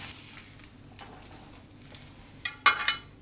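Thin slices of bacon cook on a grill as their fat gently melts, giving a soft, low sizzle. A few bright metallic clinks of utensils ring out near the end.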